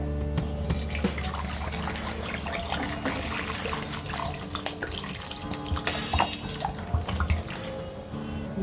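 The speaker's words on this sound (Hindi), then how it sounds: "ये हमने 3 कप पानी डाला है" Water from a tap pours steadily into a pressure pan holding six medium potatoes for a South Indian potato curry, a continuous close splashing fill that runs without pause and with no talk.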